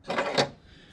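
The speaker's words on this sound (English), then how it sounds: "So, go to my snap-on box, and I'm sure it's not that drawer." A Snap-on tool box drawer slides open with a short metallic rattle and clack, close by and fairly quiet, then settles.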